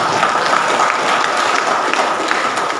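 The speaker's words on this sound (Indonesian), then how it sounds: "Tepuk tangan buat wanita." A seated audience at a geostrategy lecture breaks into sustained applause for the women, dense steady clapping filling the room without letup.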